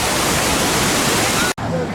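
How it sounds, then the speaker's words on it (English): A waterfall behind the Grizzly River Run raft ride at Disney California Adventure roars as a loud, steady rush of broadband water noise, briefly cut off near the end before resuming. "Backside of Grizzly River Run is this incredible waterfall."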